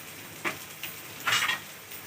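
Karela keema sizzling in a pan, onions turned light golden with minced meat, a low steady frying hiss broken by a few brief stirring scrapes, close and quiet.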